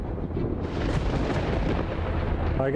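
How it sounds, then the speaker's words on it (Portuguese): A low, continuous rumble rolls on like distant thunder, steady and broad with no clear break, heard without any talking. "ouvi o barulho dos raios ao longe"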